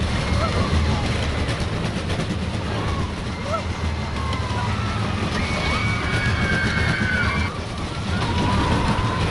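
A roller coaster train runs past overhead on its track structure, a continuous loud rushing rumble with rattling and squealing wheel tones rising near the end, heard from underneath amid background crowd voices.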